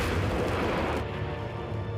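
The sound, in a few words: coffee machine malfunctioning with a bang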